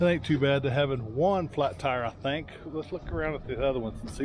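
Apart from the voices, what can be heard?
No distinct noise like a dog, phone or traffic.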